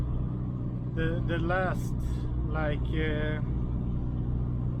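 A SAAB 9-5 Aero, rear-wheel-drive conversion, runs on a test drive with a steady low engine drone filling the cabin throughout, while someone talks over it.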